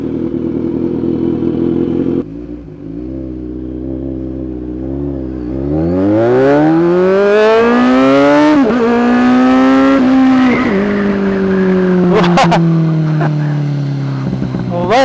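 A Kawasaki Z1000R motorcycle engine revs up loudly while riding, pitch climbing through the gears with sharp rises and shifts, close and prominent, with wind noise underneath.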